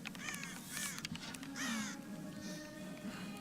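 Crows caw in the Tomb Raider video game, several harsh calls in an irregular sequence at moderate distance over a quiet ambient bed.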